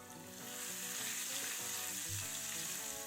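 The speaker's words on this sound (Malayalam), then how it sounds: "പട്ട, ഗ്രാമ്പു, ഏലക്ക എന്നിവ ചൂടായ എണ്ണയിലേക്ക് ചേർത്ത് കൊടുത്തു." Cinnamon, cloves, cardamom, cumin, garlic and green chilli sizzling in hot oil for rajma masala, a steady bright crackling fry that holds constant and fills the clip, with no talk.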